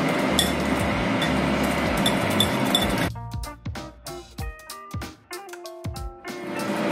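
A metal whisk clinks against a bowl while baking powder and salt are mixed for homemade waffles, first under a busy background, then alone as a run of sharp, uneven taps.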